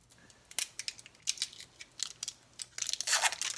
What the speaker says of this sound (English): Let's see if I can actually get in the packaging without wasting an hour of my life